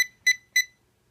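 Deteknix XPointer dual-power wader pinpointer sounding three short, clear electronic beeps at a steady pace, close up and alone, with silence between.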